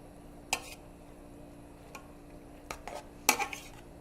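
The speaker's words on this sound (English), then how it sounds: "just going to stir it up a little bit, just kind of mix everything in" A spoon stirs turkey chili in a cooking pot, giving a few sparse clinks and scrapes against the pot over a quiet background, with the louder knocks bunched near the end.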